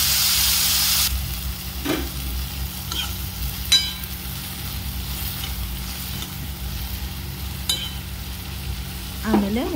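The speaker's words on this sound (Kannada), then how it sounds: "ಟೊಮೊಟೊ ಹಾಕಿದ್ಮೇಲೆ ಚೆನ್ನಾಗಿ ಫ್ರೈ ಮಾಡ್ಕೊಬೇಕು." Tomatoes sizzle and fry in a hot pan, a steady crackling hiss broken by occasional scraping stirs, close and moderately loud with no talking.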